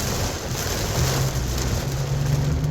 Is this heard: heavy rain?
yes